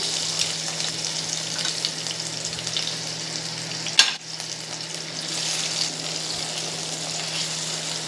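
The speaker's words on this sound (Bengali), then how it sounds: "টমেটোগুলোকেও একটু এর সঙ্গে ভেজে নেব।" Tomatoes fry with garlic and green chilli in a pan for a Bengali egg dish, giving a loud, even sizzle throughout, broken once midway by a single sharp clank of a utensil.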